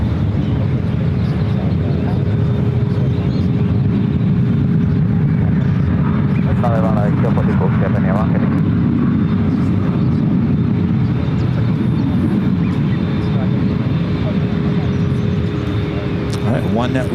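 Japan Airlines Dreamliner jet at San Francisco airport, a loud steady engine roar with heavy wind rumble held throughout at close range, a voice briefly audible over it.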